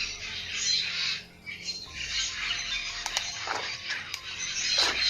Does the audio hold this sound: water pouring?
no